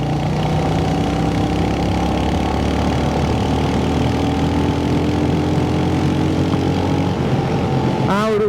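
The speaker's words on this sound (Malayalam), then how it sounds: "ആ ഒരു സൗണ്ട് കേട്ടില്ലേ, ഹയർ RPM സൗണ്ട് കേട്ടില്ലേ" A Royal Enfield Hunter 350 motorcycle engine revs at higher RPM, a loud, close, continuous drone with a steady pitch, and a brief rising sweep comes right at the end.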